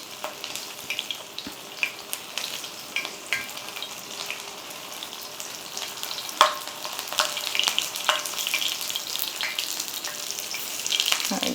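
Cheesy mashed potato balls fry in a pan, browning and crisping, with a steady sizzle punctuated by scattered crackles and a few sharp spatters, heard close with no talk.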